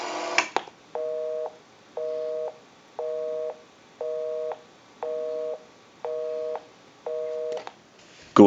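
A busy signal on a Western Electric 554 rotary wall telephone pulses in a steady on-off rhythm, about seven even beeps at moderate level, with handling clicks before and after.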